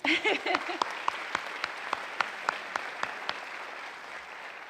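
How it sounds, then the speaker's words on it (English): A round of applause at a university convocation that starts dense and loud, then thins to scattered individual claps fading toward the end. "Let's give ourselves a round of applause."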